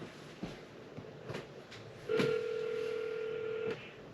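A telephone call to a game warden begins with a few faint touch-tone key beeps, then a steady dialing tone holds for over a second before cutting off.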